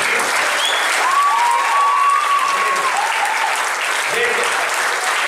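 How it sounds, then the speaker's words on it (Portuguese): Dense, continuous applause from a congregation at an Assembleia de Deus church band and choir gathering, steady and loud throughout, with a voice and whistle-like tones faintly rising above the clapping. "Uma salva de palmas para a nossa"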